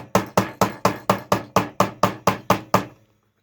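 A hammer strikes down the welt on a hand-welted shoe in eleven sharp, evenly spaced close blows, then stops.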